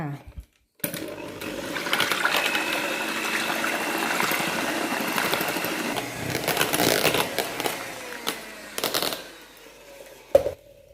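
A blender whirs steadily as it blends cream for a piña colada dessert, a loud continuous churning that runs for several seconds, briefly stops and restarts, then cuts off near the end.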